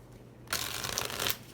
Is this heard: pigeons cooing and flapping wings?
no